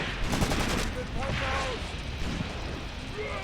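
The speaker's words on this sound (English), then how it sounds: "Here we go, more explosions, very close fire." Close explosions and rapid gunfire in the World War II tactics game Graviteam Tactics, with dense overlapping bursts and rumbling blasts throughout and someone talking over the din.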